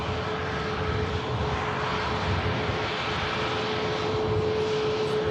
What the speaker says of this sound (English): to see is the MAX 8 of Sun Express aircraft heading to Antalya